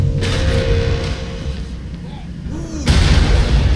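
A video game explosion in Saints Row IV, heavy low booming blasts rumbling under continuous gameplay noise, with a fresh loud burst near the end.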